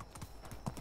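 Horse hooves clip-clop at a steady walking rhythm in the medieval survival game Medieval Dynasty, several close, crisp hoof strikes over a faint ambient backdrop.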